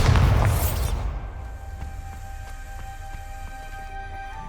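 Bombarda spell in Hogwarts Legacy: a loud blast at the start that quickly decays into crackling, debris-like rumble and faint ringing.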